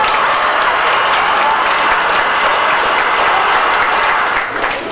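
A wedding crowd applauds continuously, loud and dense clapping that fills the whole room without a break, tapering slightly at the end.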